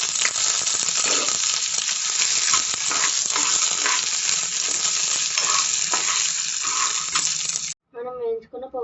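Curry leaves and spices sizzle and crackle hard in hot tempering oil for dal with green chillies, a loud continuous frying hiss with stirring, then breaking off near the end as a brief voice speaks.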